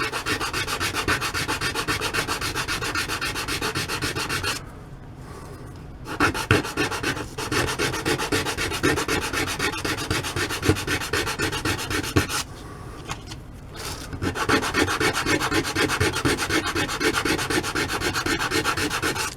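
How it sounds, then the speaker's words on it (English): Sanding small wooden legs for a miniature bench, a continuous close rasping rub with short rhythmic strokes and two brief pauses. "I'm going to sand each of these down."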